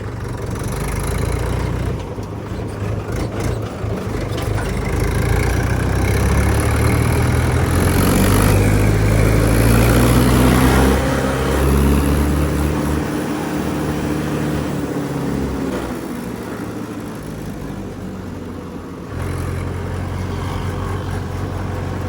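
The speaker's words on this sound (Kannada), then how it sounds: "ಈ ಟ್ರ್ಯಾಕ್ಟರ್ನ ಸೌಂಡ್ ಇಷ್ಟು ಸ್ಮೂತಾಗಿ ಕೇಳೋಕ್ಕೆ ಕಾರಣನೇ ಇದ್ರ 4 ಸಿಲಿಂಡರ್ ಇಂಜಿನ್." A tractor's smooth four-cylinder engine runs steadily nearby, a loud, even drone that swells slightly in the middle before settling again.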